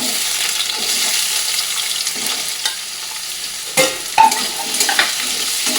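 Potatoes with green chilies and chopped ginger frying in hot oil in a pan, a steady close sizzle with a few sharper bursts and clinks near the end, no talking.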